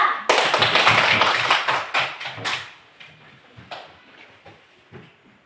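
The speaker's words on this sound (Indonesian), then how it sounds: "tepuk tangan untuk kelompok 2" Children in a classroom clapping for a group of classmates, a burst of brisk, loud applause that breaks into scattered, fading individual claps.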